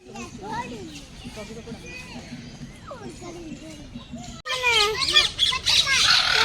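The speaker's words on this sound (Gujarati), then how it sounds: "પોપટ" A parrot squawks repeatedly at the Surat zoo in harsh, rising and falling calls. Children chatter and play nearby, and the noise grows louder toward the end.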